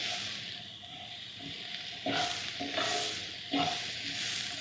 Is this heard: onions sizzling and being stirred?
yes